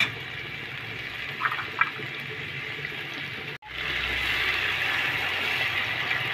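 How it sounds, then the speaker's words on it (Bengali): Water is poured into a hot pan of capsicum and baby corn. A brief gurgle gives way to a sudden break and then a loud, steady hiss and bubbling that carries on close by, with nobody talking. "জলগুলো দিলাম যাতে একটু সিদ্ধ হয়ে যায় ক্যাপসিকামগুলো"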